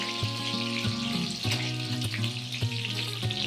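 Mutton frying in hot oil in a pan, a steady close sizzle with bubbling and occasional stirring clinks throughout, with no talking.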